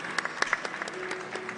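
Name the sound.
audience applause for award winner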